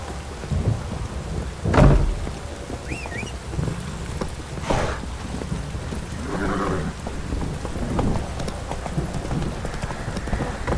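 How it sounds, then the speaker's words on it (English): Steady heavy rain hisses throughout in a video game, broken by deep rumbles of thunder, one loud crack early on and another rolling boom a few seconds later. "Proper downpour, this is."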